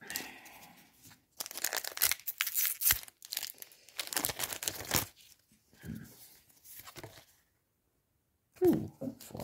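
Foil wrapper of a Kaldheim Magic: The Gathering set booster pack being torn open and crinkled, with loud bursts of ripping and crumpling close by, broken by short pauses.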